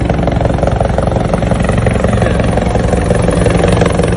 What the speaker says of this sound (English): The helicopter they use.